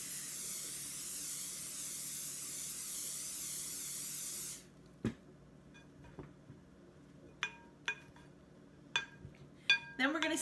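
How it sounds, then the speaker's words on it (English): Olive oil spray hisses steadily onto challah bread for several seconds, then stops; afterward come a few faint scattered clinks and taps in a quiet kitchen. "You want to make sure that all of the bread has olive oil spray on it."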